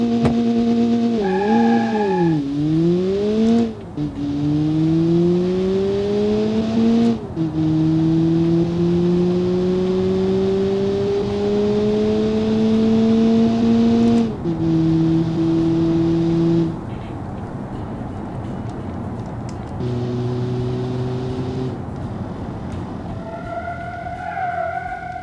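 An S20R200 Turbo car in the game Automation makes a quarter mile run: a loud engine revs up through several rising gear pulls with shift breaks between them, then drops and changes pitch near the end, with no talk.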